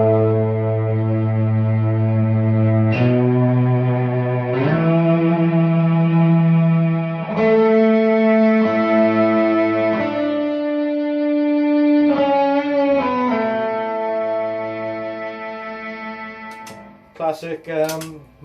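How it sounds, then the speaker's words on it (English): Electric guitar run through an Electro-Harmonix Mel9 Mellotron emulator pedal, sustained orchestral chord tones changing every few seconds, loud and close, ending with a few brief bright plucked notes. "Mellotron tones in a pedal by Electro-Harmonix."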